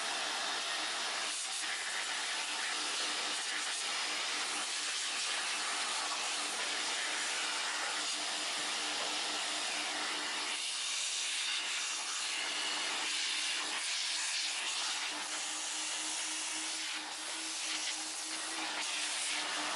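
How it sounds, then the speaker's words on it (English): A big twin-motor Karcher vacuum cleaner runs continuously with a loud, bright hiss and whine, holding steady with slight shifts in pitch and airflow and no talking. "This is a twin motored Mahusif Karcher hoover."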